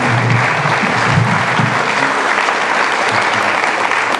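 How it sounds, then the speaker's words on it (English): Dense, steady applause from a crowd at a high school charter academy graduation ceremony, loud and continuous for the whole stretch without pauses or voices. "So please give Ray a round of applause."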